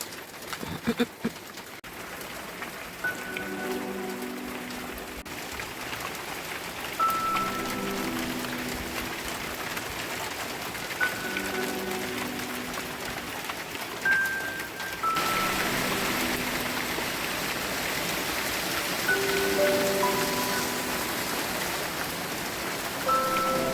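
Heavy rain with big drops falls steadily at a country dacha, a dense continuous patter that lasts throughout while a pigeon or dove coos softly in the background.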